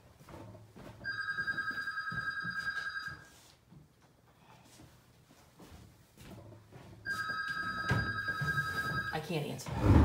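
Home telephone ringing indoors, two long electronic trilling rings separated by a pause, moderately loud, with people chatting over and between them.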